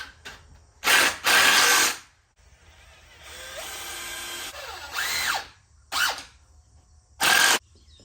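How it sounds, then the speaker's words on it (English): Power drill pre-drilling screw holes in wooden shelves, several short, loud bursts of whining drilling separated by pauses, with a brief squealing bit in the middle, close up and with no talk. "we make sure that we pre-drill every hole that we are going to screw so that we don't split the wood"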